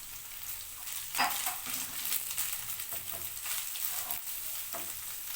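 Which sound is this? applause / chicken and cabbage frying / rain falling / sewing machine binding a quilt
chicken and cabbage frying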